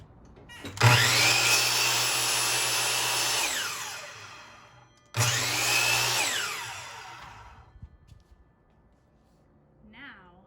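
A miter saw cuts dado slots for half lap joints in a wooden piece set against a stop block: two loud whining cuts, each ending as the blade spins down, with a short pause between them.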